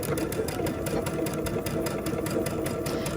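A sewing machine stitches through a butterfly quilt in a fast, steady mechanical run, its needle rattling in close, even pulses that never pause.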